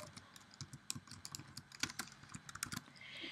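Someone types on a computer keyboard in quick, uneven bursts of light clicking, close and fairly quiet, with no voices over it.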